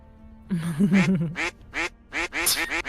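A rapid run of harsh, nasal duck-like quacks sounds in quick bursts, close and fairly loud with short gaps between calls, during a live tabletop role-playing game session.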